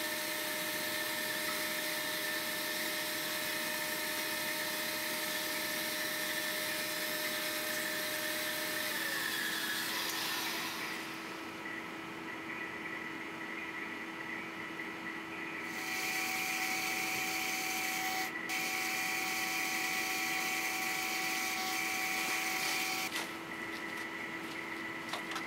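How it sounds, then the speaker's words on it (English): A wood jointer squares the edges of bed-frame rails in a workshop, a loud, steady machine whine holding throughout with shifts in pitch as boards pass over the cutter, no voices. "We then square up the edges of the rails on the joiner."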